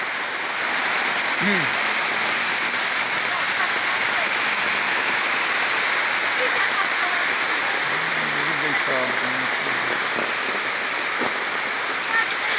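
Heavy summer rain pours steadily in Adana, Turkey, a dense constant hiss throughout, with faint voices briefly audible beneath the downpour.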